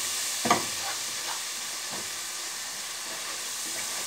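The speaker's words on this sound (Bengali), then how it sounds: "এবার একটু নেড়ে দেব।" Rohu fish curry with turmeric frying in a pan is stirred, a soft continuous sizzle with a few faint scraping strokes and one sharper clink near the start, quiet and without talk.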